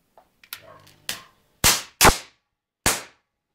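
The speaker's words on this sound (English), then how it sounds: "Certain types of capacitors, called electrolytic capacitors, have a fluid inside of them, and if the voltage is applied in reverse, they can fail catastrophically and explode like this" Electrolytic capacitors exploding when voltage is applied in reverse, several sharp loud pops at irregular intervals, the last three strongest, each a short crack with a brief fizzing tail, close and with no talk.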